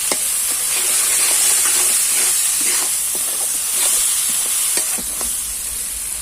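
Whole spices such as cardamom, cinnamon, bay leaf and cloves are stirred in a hot frying pan with onions, giving a loud, continuous hissing sizzle with soft repeated spatula scrapes throughout.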